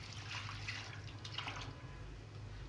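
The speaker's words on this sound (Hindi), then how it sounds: "अब इसमें मैं ये पानी डाल दूँगी।" Leftover dal cooking water trickles and splashes steadily into chana dal masala in a pot, a soft continuous pour heard close by at low volume.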